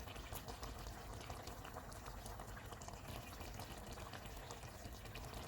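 Chicken lazeez simmering in a covered pot, a steady soft bubbling and hiss that continues evenly without pause, close by, with no voices.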